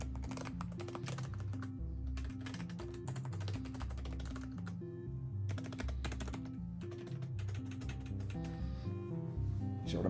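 Arcade cabinet buttons are pressed rapidly in quick irregular bursts of clicky taps during a keyboard test on an arcade pedestal build, close and fairly quiet, with no talking.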